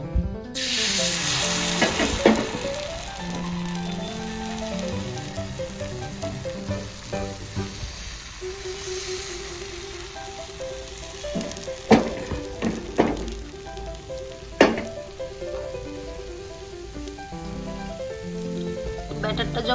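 Batter hits a smoking-hot tawa griddle for patishapta pitha, setting off a steady, bright sizzle that carries throughout, with occasional clicks and taps of utensils and a faint tonal background hum.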